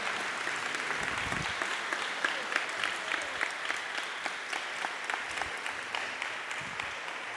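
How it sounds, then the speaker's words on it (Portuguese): A church congregation claps during a sermon on a rainy day, a dense, steady wash of many hands with scattered sharper claps, sustained at an even level for the whole stretch with no voices over it. "Eu quero que você aplaude o irmão que está do seu lado"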